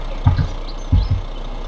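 A truck engine in the Spintires video game, a K-44108 mod, starts with two pairs of low, heavy chugging thumps over a steady low hum.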